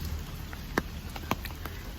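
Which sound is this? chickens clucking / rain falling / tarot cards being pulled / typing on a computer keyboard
rain falling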